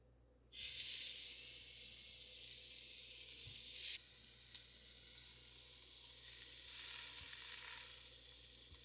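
Chicken wings go into an air fryer preheated to 400 degrees, setting off a sudden loud sizzling hiss that stays steady, with a few small knocks and clinks as they are arranged.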